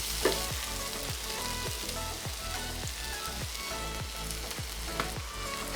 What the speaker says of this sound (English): Now I'm adding in the cooked rice.